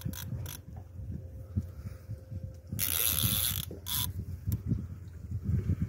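A fishing reel's drag clicks in quick ratcheting bursts as a hooked leerfish pulls line, close and fairly quiet, with a louder burst of line noise midway.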